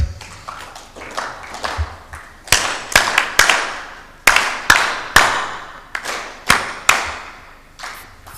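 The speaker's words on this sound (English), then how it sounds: "Comrades, a better round of applause." Sparse, uneven claps from a small group, sharp slaps scattered irregularly over several seconds, fairly close and moderately loud, with no talking.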